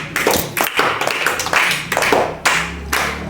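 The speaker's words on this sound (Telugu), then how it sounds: "very good, claps" A few children clap together in a classroom maths lesson after a correct answer, giving several short bursts of claps with pauses between them, close and fairly loud.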